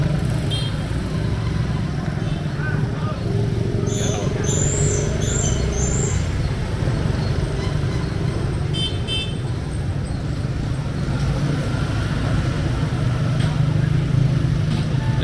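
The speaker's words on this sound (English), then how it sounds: "just chill out and watch the traffic and the noise go by" Steady street traffic near An Bang Beach, a continuous low rumble of passing cars and motorbikes with a couple of short horn toots in the middle.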